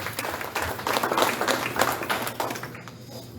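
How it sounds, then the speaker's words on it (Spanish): Congregation applauding during a Spanish-language church sermon, a dense wash of clapping at moderate level for about three seconds before thinning out near the end. "¿Cuánto le dan un aplauso al Señor?"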